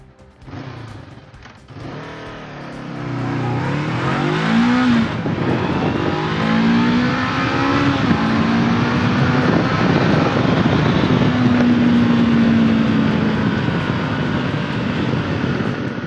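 A Honda NX500 motorcycle engine revs hard and loud for over ten seconds, climbing and holding at a high, steady pitch as it bounces off its rev limiter at about 8,500 rpm.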